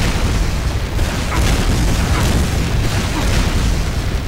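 Rockets from a soldier class in a video game exploding against the floor, a loud, continuous rumbling roar of blasts with dense low-end booms and no clear gaps between them.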